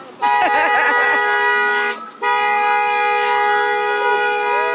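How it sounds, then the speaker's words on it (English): Car horns blare in long sustained honks at a street protest, briefly breaking off and then resuming, loud and close, with voices faintly mixed in at the start. "People honking support."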